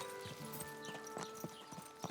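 Horse hooves clip-clop in a steady walking rhythm in a fantasy video game, close and moderately loud over a faint continuous musical drone.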